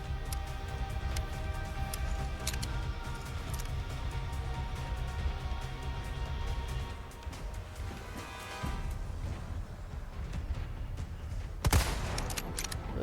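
Gunfire in the Resident Evil 4 Remake video game comes as scattered sharp shots over a steady background ambience, with one louder crack near the end.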